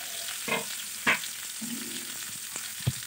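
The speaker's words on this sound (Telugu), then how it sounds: "వీడియోలో చూపినట్లుగా ఎగ్ ప్లాంట్ను అటు ఇటు తిప్పుతూ బాగా ఫ్రై చేసుకోవాలి" Eggplant frying in sunflower oil in a pan gives off a steady crackling sizzle, with a few louder clinks and scrapes as the pieces are stirred and turned.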